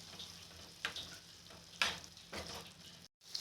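Ridge gourd and milk curry simmers in a pan with a low, steady bubbling sizzle, broken by a few short scraping stirs, quiet and close.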